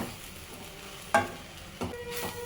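Uggani, a Rayalaseema puffed rice mixture, is stirred in a hot pan with a soft sizzle and a couple of distinct utensil scrapes against the pan, no talking.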